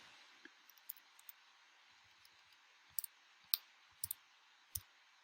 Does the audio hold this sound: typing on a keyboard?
yes